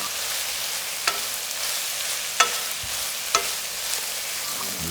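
Meat and mushrooms sizzle and fry in a pan over a campfire, a steady hiss with a few sharp scrapes of stirring, no talk.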